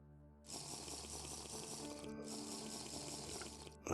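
Flowing water in the TerraFirmaCraft Minecraft game starts abruptly and runs as a steady trickling hiss over a low ambient hum, with one brief break before continuing, moderately quiet.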